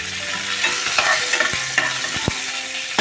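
Mustard seeds, chana dal and curry leaves fry in hot oil for a potato roast, a steady bright crackle and sizzle with sharp popping spurts and occasional stirring knocks, close and loud with no talking.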